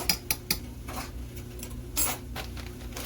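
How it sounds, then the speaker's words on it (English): Keto buffalo chicken chili being stirred in a pot, with a few sharp utensil clinks and scrapes against the metal at the start and again around two seconds, over a low steady background hum. "stir it up a little bit more"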